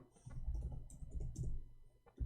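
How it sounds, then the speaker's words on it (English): Quiet typing on a computer keyboard, irregular soft clicks and taps in short clusters, close by with low background rumble. "Hold on, I'm typing in Arabic."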